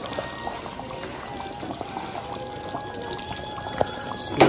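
Fish pieces go into a simmering Burmese-style fish curry sauce in a home kitchen, giving a soft pouring, plopping sound with gentle bubbling, fairly quiet and steady, with a sharper splash near the end.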